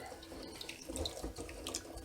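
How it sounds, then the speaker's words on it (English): A kitchen faucet runs steadily with splashing as string beans are washed in salt water in the sink, a continuous close rush of water. "I've run some salt water here and wash them real good."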